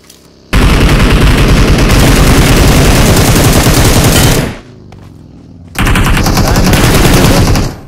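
Rapid automatic gunfire from the mobile battle royale game BGMI rattles loud and close in two long sustained bursts separated by a short lull.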